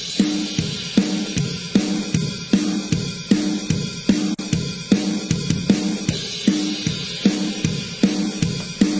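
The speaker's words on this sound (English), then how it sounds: "these drums sound like this" Programmed MIDI drums play a steady, driving beat in a music program, with regular punchy kick and snare hits and bright cymbal texture repeating evenly throughout, with no voices.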